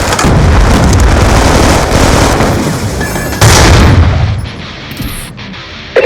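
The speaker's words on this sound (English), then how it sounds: "Be advised, hostile lightning strike inbound." In Call of Duty: Black Ops 2, a lightning strike airstrike lands as a loud, continuous barrage of booming explosions, with sharp impacts and rolling rumble filling the whole moment.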